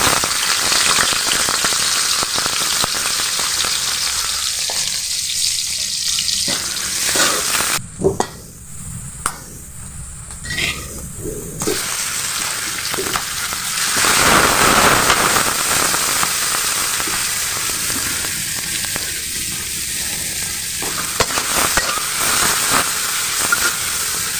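A paste of ground mustard, cumin, onion and garlic fries and sizzles in a pan with a constant hiss throughout, while a spoon stirs it and scrapes the pan now and then, close and loud.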